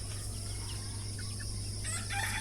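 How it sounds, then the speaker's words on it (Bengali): Native deshi chickens, month-old free-range chicks outdoors, give soft scattered peeps and clucks over a steady low hum and insect-like buzzing, with a few brighter calls rising near the end. "এই যে মুরগির বাচ্চাগুলো দেখতে পারতেছেন, এগুলো আমি ছেড়ে দিছি প্রাকৃতিক পরিবেশে"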